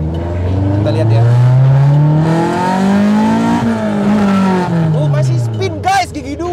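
A naturally aspirated Honda Civic EG6 revs hard in second gear during a drive, its engine note climbing in pitch, easing off, then rising again. The sound is loud and close, and someone talks over it.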